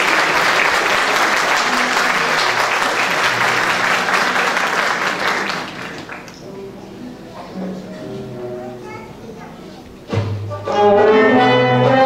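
A concert audience applauds after a Turkish song by a soloist, with dense, loud clapping that fades after about six seconds into quieter murmuring, then music starts again near the end.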